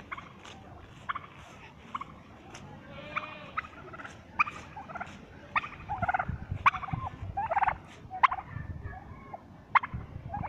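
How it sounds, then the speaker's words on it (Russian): Turkeys gobble repeatedly in short bursts alongside chickens and other farmyard fowl calls at a home petting zoo, fairly close, over a steady outdoor background. "Это индюк."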